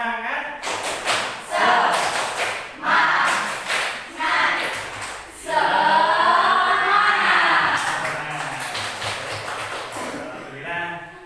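A group doing tepuk semangat, a rhythmic clapping routine, with bursts of patterned claps and taps in quick sequences, followed by a stretch of cheering or vocal noise.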